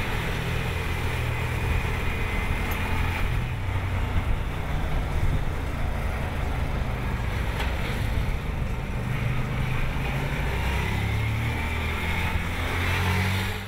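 A Moto Guzzi California 1400 motorcycle is ridden at steady speed, its engine drone mixed with heavy wind rush that stays loud and even throughout.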